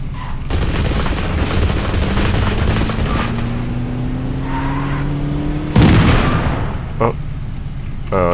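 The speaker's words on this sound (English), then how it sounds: "Out with my shotgun." Shotgun blasts ring out in the video game Totally Accurate Battlegrounds, sharp bursts over a running engine drone and other game noise, with one loud heavy shot standing out near the end.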